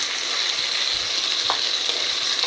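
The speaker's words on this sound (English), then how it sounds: "Now we add chopped but blended tomato." Capsicums and paneer fry in a wok as blended tomato goes in, giving a steady close sizzle with a light stirring scrape.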